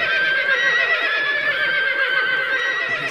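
A horse in a Minecraft Lord of the Rings mod lets out one long, bright whinny that holds steady and loud throughout, close up and alone.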